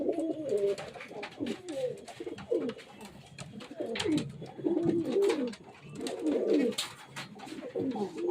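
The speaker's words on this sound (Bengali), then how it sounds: "এই যে টেডি পায়রা" A pair of teddy pigeons coo close by, repeated throaty rolling coos in overlapping bursts over several seconds, with faint background noise and no talking.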